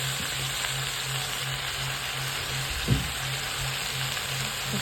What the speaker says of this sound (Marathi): करडीची भाजी टाकून घेऊया